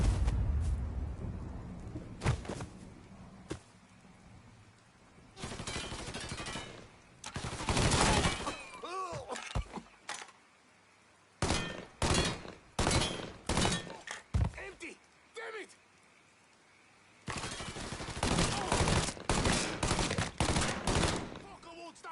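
Mafia III firefight with loud, close gunshots in scattered clusters and rapid bursts, separated by short lulls, some impacts thudding heavily.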